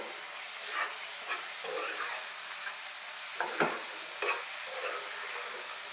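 Chilli powder being stirred into hot oil in a frying pan, a soft steady sizzle and hiss with a few light spatula scrapes and taps, close but quiet, with no voices.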